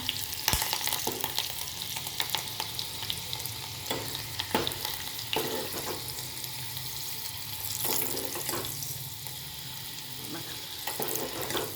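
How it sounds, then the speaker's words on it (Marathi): Two green chillies and chopped garlic fry in oil in a pan for dal tadka, giving a steady close sizzle with occasional stirring clicks and scrapes throughout. "त्याचसोबत 2 हिरव्या मिरच्या, चांगलं तळूया आपण."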